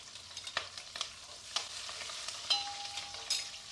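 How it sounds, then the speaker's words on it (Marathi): Mustard seeds crackling in hot oil for a tempering, with sharp pops and spits scattered over a close, steady sizzle, plus occasional stirring scrapes against the pan. "फोडणी तडतडली"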